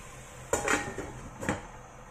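A lid is lifted off a cooking pot of simmering pork adobo, giving two close metallic clanks about a second apart, the second a little softer, over a low kitchen hum.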